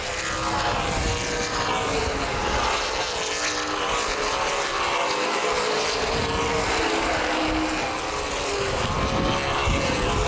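Stock cars race on an asphalt speedway at Baer Field, a dense, loud engine roar filling the scene without letup, with several cars droning together and passing nearby.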